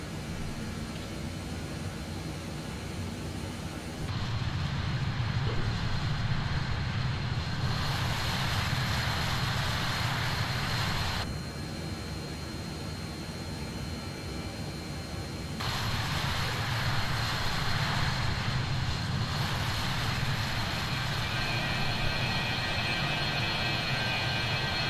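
BAe 146 jet engines drone steadily in flight in Microsoft Flight Simulator 2020, a continuous loud rumble with a high whine whose level shifts in long stretches as the view changes, with no talk.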